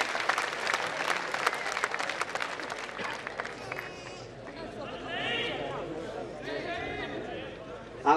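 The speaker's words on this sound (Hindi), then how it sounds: "एक बार जोरदार तालियों के साथ" An audience at a Hindi poetry recital in a Rajasthan and Mewar song setting breaks into loud applause, a dense burst of clapping that thins out, with a voice speaking over it partway through.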